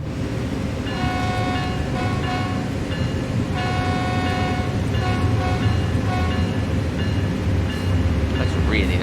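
A BNSF diesel locomotive rumbles steadily in Train Sim World 3 on Cajon Pass, with a deep continuous engine drone and repeated tonal horn-like whines that come and go; someone talks over it.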